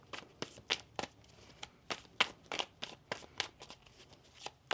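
Tarot cards being shuffled by hand in a series of crisp, rapid riffling bursts, close and clear with no talking.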